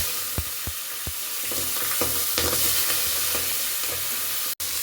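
Raw green peas stirred into a sizzling tempering in a pan, a steady frying hiss broken by several sharp scraping clicks of the spoon against the pan, close and clear.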